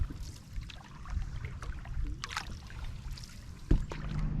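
A boat paddled across Sebago Lake in Maine: soft water swishes and drips from the strokes, with a sharper knock near the end, and no talking.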